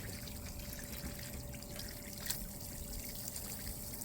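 A gentle, low-pressure stream of water rinses a Cobb SF intake filter for a Subaru Forester, giving a faint, steady trickle and patter.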